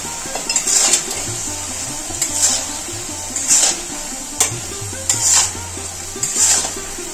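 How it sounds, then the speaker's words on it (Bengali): Jujubes (kul) for pickle are sautéed and stirred in a pan with salt and turmeric. A steady sizzle runs under it, and a utensil scrapes and clinks against the metal in repeated loud bursts about once a second. "আর একটু কষিয়ে নেব কুলগুলো"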